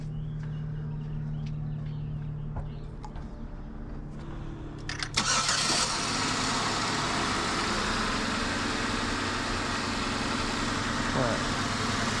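A car engine with a suspected bad head gasket and a burnt radiator idles at first, then cranks and restarts around the five-second mark, settling into a steady, loud idle that carries on to the end.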